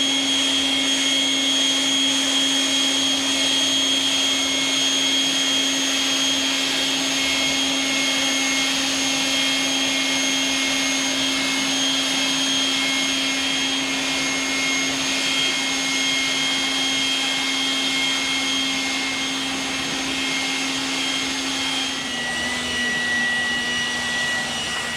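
A cordless 20V electric leaf blower running on turbo gives a loud, steady whining roar with strong tonal hum, shifting slightly in pitch near the end, close by and without talk.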